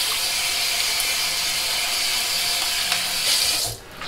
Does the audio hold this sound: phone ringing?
no